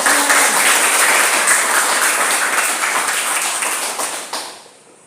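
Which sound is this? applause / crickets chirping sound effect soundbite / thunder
applause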